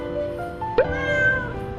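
A talkative cat lets out a single short, close meow with a rising chirp, over a steady background hum and no one speaking.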